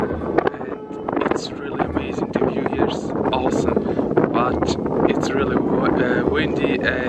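Strong wind buffets the microphone on the summit of the Stockberg in the Swiss mountains, a loud, continuous rushing roar with gusty bursts throughout.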